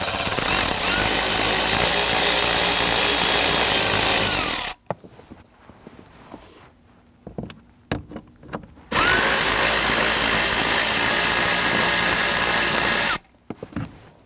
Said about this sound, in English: We're going to use our socket here to loosen and remove these.